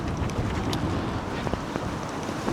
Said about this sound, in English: on a day like today, where it's very windy